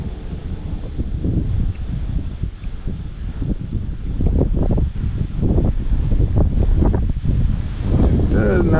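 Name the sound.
wind picking up while bass fishing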